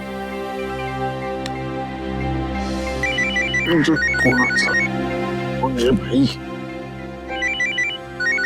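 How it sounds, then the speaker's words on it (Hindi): A telephone rings indoors with repeated electronic ringtone bursts, while people talk over and between the rings. "अरे आ गया, फॉरेन का फोन आ गया।"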